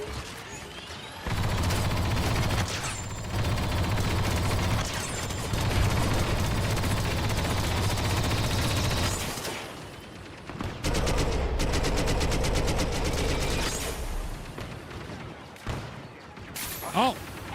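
Rapid gunfire in a Star Wars Battlefront 2 mod, dense bursts of shots running almost continuously for long stretches with brief pauses, while a voice talks excitedly over the shooting.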